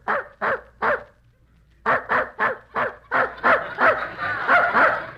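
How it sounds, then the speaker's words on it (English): A dog in the next room barks repeatedly in bursts, some sharp and some yelping, with a short pause partway through; the barking sounds muffled and moderately near. "There's that dog in the next room barking again."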